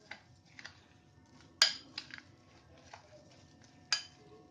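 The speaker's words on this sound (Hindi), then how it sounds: "मैं इसमें और डाल देती हूँ और अच्छे से इसको दोबारा से मिक्स कर लेंगे" Soft scraping and clinking of a spoon against a bowl while rava vada batter with added curd is mixed, quiet and intermittent, with a few sharper taps standing out.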